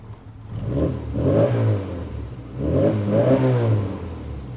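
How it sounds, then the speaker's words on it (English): A modded 1991 Mini Cooper with a lightly fettled 1275cc engine making 75 brake horsepower revs close by in two throaty surges, each climbing and easing back to idle between them. "The engine has been lightly fettled and is putting out 75 brake horsepower."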